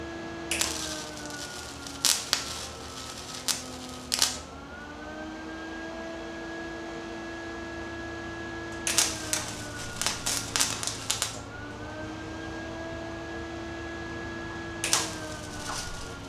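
A patch is tacked onto a car body with a welder: short, sharp crackling bursts come in scattered clusters over a constant mechanical hum, fairly quiet overall and without speech.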